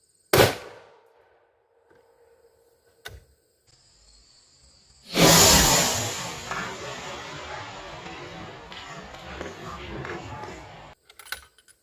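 A sharp, loud .30-06 rifle shot fired with a 220 grain Remington Core-Lokt round into ballistic gel, with a quick decay, then a later burst of hissing, crackling noise that fades out slowly.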